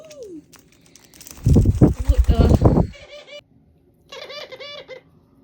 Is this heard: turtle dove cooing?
yes